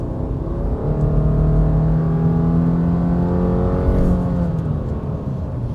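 A 2026 Subaru Forester Wilderness engine revs at full throttle while driving off-road, a loud, steady droning roar that climbs slowly in pitch and holds for several seconds before easing slightly.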